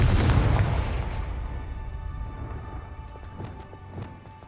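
Confringo fire spell blast in the video game Hogwarts Legacy: a loud booming burst at the start that decays into a rumbling tail, followed by a few faint clicks and taps.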